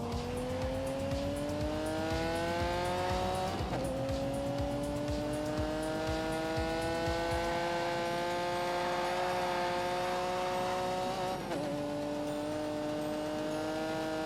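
Car engine in The Grand Tour racing video game held at full throttle, a loud continuous roar whose pitch climbs steadily, drops briefly twice as gears shift, then rises again, with no talking.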